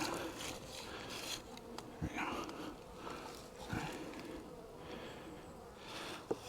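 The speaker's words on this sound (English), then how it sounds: "You can see all the bees." Honey bees in an opened hive during a fall inspection give a continuous close buzzing hum, with a few knocks and thumps from handling the frames, while a person talks over it.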